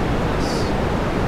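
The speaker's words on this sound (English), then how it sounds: "just grab a simple white noise function" Steady, full-band hiss of synthesized white noise from a simple noise generator function, constant and loud for the whole stretch with no variation or other sounds.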